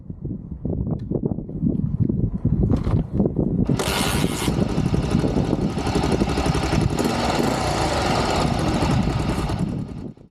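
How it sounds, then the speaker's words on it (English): A regularly ridden Matchless motorcycle engine is kicked over with a few mechanical thumps, then catches within seconds and settles into a loud, continuous idle close by, with no talking. "So here's a bike that's in regular use, and just watch how easy it is to start."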